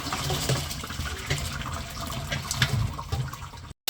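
Water from boiled chicken noodles pours and splashes steadily into a sink as the cooking liquid is drained, continuing for several seconds before cutting off abruptly.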